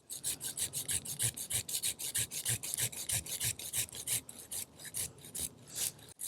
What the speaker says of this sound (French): Je vais être obligé de prendre ma scie